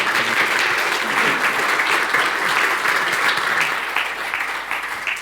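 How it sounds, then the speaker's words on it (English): Sustained audience applause fills a conference hall for two presenters, Sandra and Bruno, at a FinOps talk, a dense steady wash of clapping that holds loud and even before tapering slightly at the end. "A massive round of applause, please, for Sandra and Bruno."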